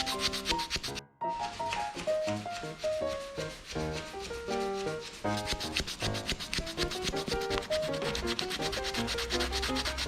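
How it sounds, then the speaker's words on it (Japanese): A wooden frame being sanded by hand with sandpaper, close and clear, in quick repeated rubbing strokes with brief pauses between passes. "とてもサンディングがやりにくいです。"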